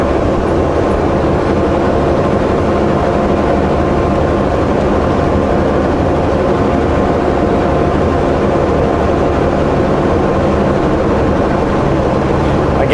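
A Kubota tractor cutting grass gives off a loud, continuous engine drone and mower roar, steady and unbroken at close to moderate distance, with no one talking over it.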